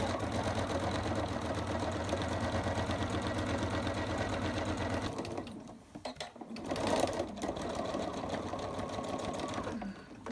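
A sewing machine stitches an overlocker cover in a fast, steady mechanical whir. It stops briefly midway, then starts again for a short burst of stitching, close and clear.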